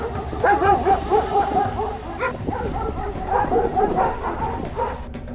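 Stray dogs in a Greater Noida West housing society bark and yip repeatedly in uneven bursts, moderately loud, with some voices mixed in underneath.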